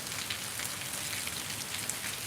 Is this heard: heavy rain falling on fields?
yes